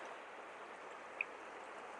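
A small mountain creek in the Colorado alpine backcountry flows steadily, a soft continuous wash of water heard fairly faintly on its own, with one tiny click partway through.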